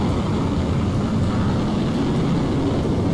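In the Roblox game Pilot Training Flight Sim, an airplane takes off with a continuous, loud engine rumble and rushing noise that holds steady throughout, with no voices.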